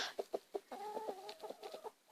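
A black-copper Marans hen clucks close by, a few short clucks followed by a run of quick, rhythmic bawks, fairly faint with no talking.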